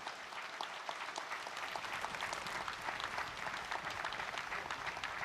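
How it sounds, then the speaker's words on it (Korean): A large audience at the 64th Armed Forces Day ceremony at Gyeryongdae, South Chungcheong, applauds to welcome war veteran Lee Jong-hyun: steady, dense clapping that fills the whole stretch without a break. "여러분 환영의 박수 부탁드립니다."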